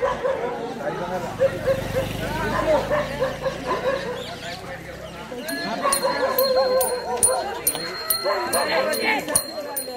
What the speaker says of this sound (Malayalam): കുരയ്ക്കുന്ന പട്ടികൾ